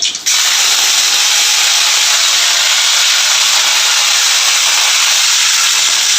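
Fennel seeds, cinnamon, cloves and bay leaf crackle in hot oil as the tempering for rava khichdi, producing a loud, dense, unbroken hiss that follows a brief sharp onset.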